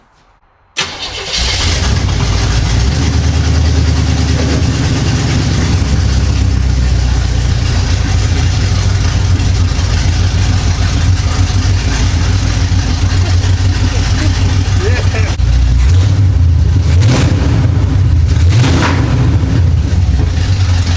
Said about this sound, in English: Let's see if it sits here and idles by itself.